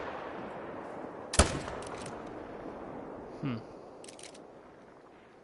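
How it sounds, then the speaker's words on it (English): In theHunter: Call of the Wild, a single sharp hunting rifle shot cracks out and strikes a tree, followed by a brief echo and a quieter thud a couple of seconds later over steady outdoor ambience. "Had an opportunity to shoot him, but I smoked a tree."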